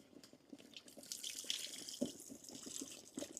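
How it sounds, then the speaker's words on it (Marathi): Tamarind water poured into simmering fish curry gravy, a soft continuous splashing trickle with small drips, close and fairly quiet, heard alone. "आपण आता त्यामध्ये चिंचेचं पाणी घालून घेऊ।"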